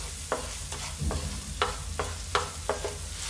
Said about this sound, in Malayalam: ഒരു ഏകദേശം 2-3 മിനിറ്റ് ഇനി നന്നായിട്ട് ഇളക്കി കൊടുക്കാം